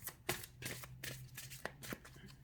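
Tarot cards are shuffled and cut by hand close by, a quick run of soft riffling slaps and flutters in bursts over about two seconds, with no talking.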